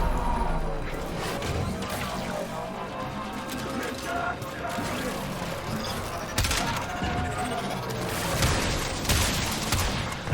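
Gunfire in the Warframe video game while riding a K-drive hoverboard, with rapid bursts of shots and crashing impacts over a busy, continuous game soundscape, loud and close.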